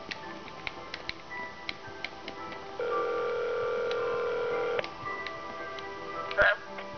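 A steady electronic telephone tone holds for about two seconds, followed by a brief sharper burst, with faint ticking clicks scattered throughout.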